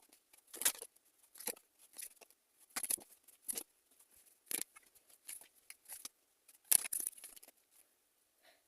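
Tarot cards being drawn and shuffled, giving close, dry papery swishes and flicks in irregular bursts with quiet gaps, no speech.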